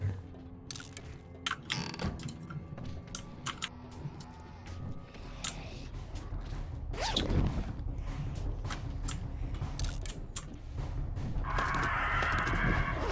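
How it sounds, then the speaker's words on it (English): Crow-like bird caws repeatedly in the game 7 Days to Die, sharp calls scattered over a rumbling outdoor backdrop, moderately near and loud. "There's a bird."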